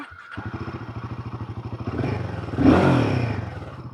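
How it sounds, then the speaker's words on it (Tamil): A Royal Enfield Himalayan 450 motorcycle's exhaust thumps in a steady, close idle rhythm, then swells into a louder rev before settling again. "ஸோ எக்ஸாஸ்ட் நோட் ரொம்பவே கிறிஸ்பியாக இருக்குது"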